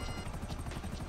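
A helicopter in GTA V Online, its rotor thudding in a fast steady pulse with a broad engine roar, continuous and fairly faint in the background.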